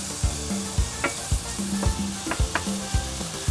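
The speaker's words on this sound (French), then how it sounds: "Bon, ça commence à frire, c'est très bien." Sliced onions start to fry in a pan for a merguez sandwich, giving a steady close sizzle punctuated by regular, rhythmic knocks and scrapes of a utensil stirring them.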